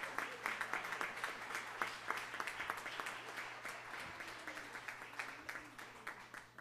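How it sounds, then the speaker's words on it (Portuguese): Steady applause from the audience at a formal civic session conferring an honorary citizenship title, dense clapping held at a fairly even level for several seconds, heard at a moderate distance in a large hall. "Merece a salva de palmas."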